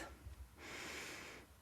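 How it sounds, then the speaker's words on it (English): A person draws one slow, audible breath through the nose and mouth. The airy inhale is quiet and close, and lasts under a second after a brief pause. "let's take a breath."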